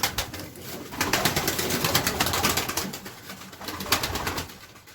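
Pigeons cooing and flapping as a loft's birds, including white ones, are released to fly, with steady close wing beats and rustling throughout and no talk.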